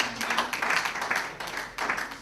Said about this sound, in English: I can tell that's female clapping.